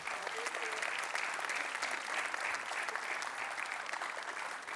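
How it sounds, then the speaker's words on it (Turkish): An audience applauds competitors in a steady, fairly distant stretch of clapping, dense and even, with faint murmuring voices beneath. "her birine bir alkış istiyorum"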